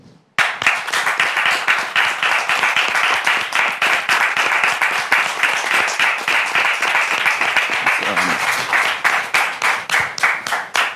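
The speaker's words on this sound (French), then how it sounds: "je voudrais, le public, vous demander de le recevoir avec des applaudissements nourris" Audience at a French-language Christian talk show applauds a guest named Marc, a dense, steady burst of clapping from many hands, loud and close, sustained for about ten seconds before thinning out near the end.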